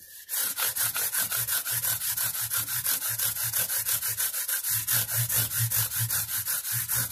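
Guitar frets being sanded level with a 180-grit leveling tool, a close, steady series of quick back-and-forth rubbing strokes in an even rhythm, with no talking.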